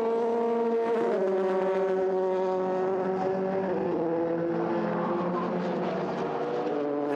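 British F3 single-seater race cars scream past on track, a loud, continuous high-revving engine wail with rising and falling pitch as they shift and sweep through a long left-hand bend, no talk.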